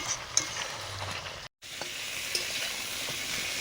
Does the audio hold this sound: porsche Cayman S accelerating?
no